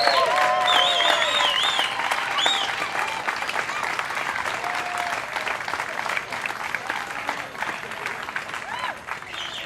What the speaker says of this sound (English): Let's hear it for Tom Danielson, Tommy D.